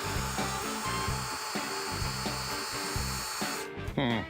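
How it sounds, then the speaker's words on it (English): An electric drill whirs steadily with a rhythmic, pulsing hum for several seconds while turning an engine, then winds down and stops near the end. "I'm gonna get electric drill on this thing"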